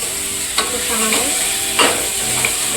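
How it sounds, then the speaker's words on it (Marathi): Rice being stir-fried in ghee for sweet coconut rice, a loud close sizzle under repeated scraping stirs of a spoon against the pan, with a couple of sharper swishes; no voices. "हे एक वाटी तांदूळ आहे व्यवस्थित तुपामध्ये परतून घेते"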